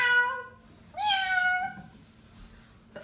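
A cat meows twice nearby, two drawn-out plaintive cries separated by a short pause, followed by quiet.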